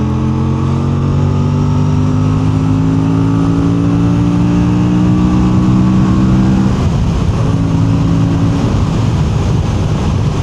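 Aprilia Tuono 457 motorcycle (2026) accelerating hard on a road test ride, engine note rising steadily through the gears with a shift near the end, loud and close throughout with no talking.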